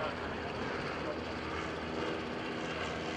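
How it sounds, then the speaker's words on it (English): Propeller aircraft, World War II liaison planes at an air show, drone past in a loud, continuous rumbling roar that fills the whole moment, with engine noise steady and close. "The airplanes they come by"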